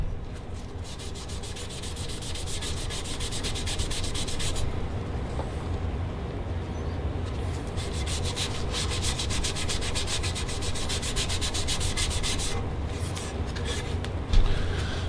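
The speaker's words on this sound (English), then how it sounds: "We'll probably just sand it ever so slightly to clean it up." Hand sanding along the edge of burl or spalted wood freshly coated in Craftnique custom-colour gel stain, a steady close scratchy rubbing with rhythmic strokes and brief pauses.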